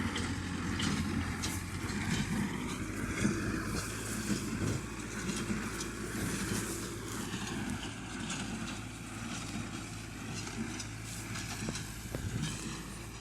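Steady mechanical drone of a Massey Ferguson MF124 hay baler running in a straw field, a dense continuous rumble with rattling and clanking, close and unbroken, with no talk.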